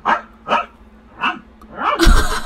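A woman imitates a dog barking, giving three short, separate yelps followed by a louder, rougher bark with a noisy burst at the end, close and alone with no other talk.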